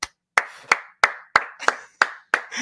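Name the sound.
clapping hands, round of applause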